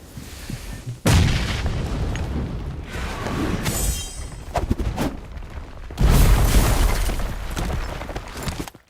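Rocket or artillery explosions, two heavy booming blasts with long rumbling tails, one early and a louder one later, with crackling debris and smaller bangs between them.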